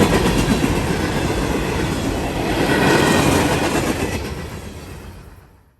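A CSX local freight train passes southbound, with a loud, steady rumble and the clickety-clack of wheels close by. The noise swells in the middle and fades away at the end, with no voices.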